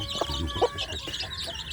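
Young native kampung chicks in a rearing box cluck and peep softly while being fed, a few short calls standing out over a low, steady background with no talking.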